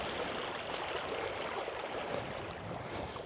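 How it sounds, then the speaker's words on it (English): River water rushing steadily at a crossing on a mountain hike in the Italian Alps, a broad continuous roar close by with no voices over it. "I don't think it could be a proper hike without a river crossing, right?"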